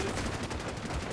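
Automatic turrets fire in the sci-fi shooter Starship Troopers Extermination, a dense, steady stream of rapid gunfire that runs unbroken through the moment without a voice over it.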